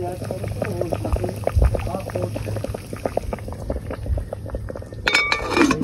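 Cassava bubbles in a pot set over charcoal, a steady close simmer of popping and gurgling, with clinks of metal near the end and people talking over it.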